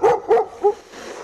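A stray dog in a residential neighbourhood gives three short, sharp barks in quick succession, fairly close, followed by a quiet moment.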